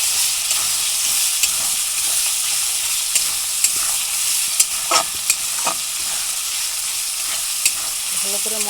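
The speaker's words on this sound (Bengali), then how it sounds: "ভালো করে মশলাটা কষিয়ে নিতে হবে।" Masala for prawn malai curry, seasoned with salt and turmeric, sizzles steadily in a pan while a spatula stirs it, with scattered scraping clicks over the continuous frying hiss.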